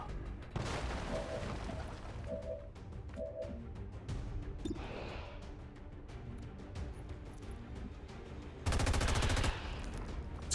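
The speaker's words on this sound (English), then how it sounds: "It's got a great sound, the LMG there, over the standard gunner cannon" Light machine gun fire in the video game XCOM 2, heard as clusters of rapid shots between other game effects, with one loud dense burst of automatic fire near the end.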